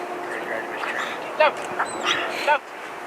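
A police K-9, a muscular 73-pound dog at a department demonstration, gives a few short whimpers and yips spaced through the clip amid ongoing crowd chatter and people talking nearby.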